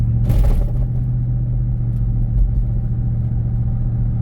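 Ford Aviator SUV with a 4-valve V8 warming up in cold weather, a steady low idle rumble heard close, with a brief rise in revs at the start.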